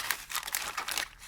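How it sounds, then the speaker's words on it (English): A plastic bag of parts from an Italeri T-55 Iraqi Army model kit crinkles as it is slit and pulled away, giving a close, busy rustle in quick successive bursts. "We'll just put a little slit and remove the plastic"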